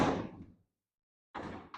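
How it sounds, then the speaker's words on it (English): Rear door of a 1937 car being opened, a heavy metallic latch clunk followed by silence, then a second sharper door thunk, close and fairly quiet. "you can see how when I open the door"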